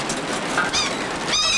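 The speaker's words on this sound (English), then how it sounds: "Oh, we got seagulls." Seagulls give a quick burst of harsh, squawking calls, two or three cries in under two seconds at moderate loudness.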